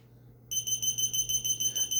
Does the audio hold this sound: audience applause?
no